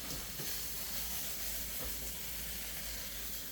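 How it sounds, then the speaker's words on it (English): Butter sizzling and hissing in a frying pan before eggs go in, a steady, soft crackling fizz that continues evenly throughout. "Gotta get this butter melting here so I can throw my eggs in here"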